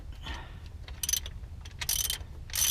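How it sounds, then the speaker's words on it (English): Ratchet clicking in short bursts on a transfer case bolt of a 2001 Ford F-250 Super Duty 4x4 during service, with faint mechanical clatter over a low background hum and no talk. "Get this to where it's finger tight, and I can get the ratchet off of her."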